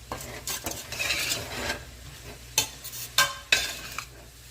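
Ground coriander, cumin and mustard seed stirred and blooming in a hot pan for chili con carne, a soft sizzle under scraping strokes and three sharp spoon clinks against the pan near the end, with no voices.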